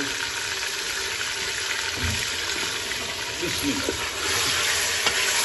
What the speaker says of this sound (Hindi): इसकी हम कर लेंगे भुनाई थोड़ी देर के लिए